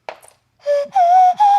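A plastic nose flute plays three sustained, slightly wavering whistly tones, the last two rising in pitch, after a brief breathy noise at the start; loud and close, with no talking.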